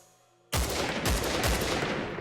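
Gunfire inside a Minecraft server from a video game: a burst of loud, close shots begins abruptly after a quiet lead-in, with three heavier impacts in a rapid rolling volley and no talk over it.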